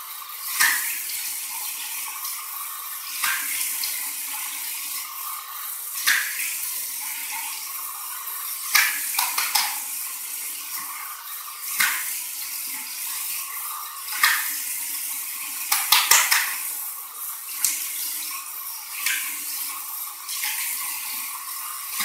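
Cold tap water runs for a rinse after a mild wet shave, a steady hiss broken by repeated splashes as hands pass through the stream, with no talking.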